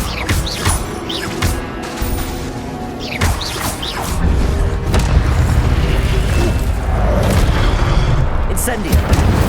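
Incendio fire spells are cast in combat in Hogwarts Legacy, giving repeated loud whooshing bursts and booming impacts over a busy clash of hits, with a voice speaking between the blasts.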